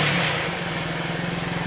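Close, steady idle of a TVS XL 100 BS6 moped engine, running on its HT coil: an even, low buzzing throb that holds a constant pitch and level, with no revving and no voices.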